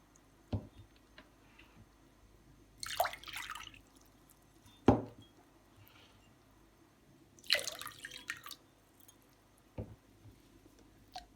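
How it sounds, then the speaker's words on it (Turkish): Water is poured into a bowl holding salt for unleavened lavash dough, coming as a few short, faint splashing pours between light taps and knocks of the container in a quiet kitchen. "3 su bardağı suyu ilave edelim"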